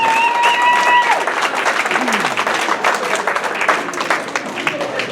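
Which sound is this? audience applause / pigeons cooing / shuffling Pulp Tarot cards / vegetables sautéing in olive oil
audience applause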